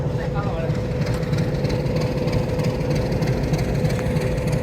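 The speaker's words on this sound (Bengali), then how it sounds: "তো গাইস ট্রেন ছেড়ে দিল।" A train engine rumbles low and steady as the train pulls out of a Bangladeshi station between Bogura and Santahar junction, with a constant mechanical hum and people talking nearby.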